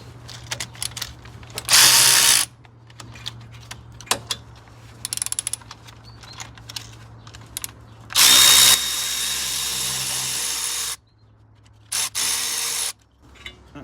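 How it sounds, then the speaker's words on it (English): A ratchet works 7mm Allen key socket bolts loose on the front brakes of a Volvo V70, with several separate bursts of loud rapid clicking between quieter pauses filled with small tool handling noises. "Got my ratchet there."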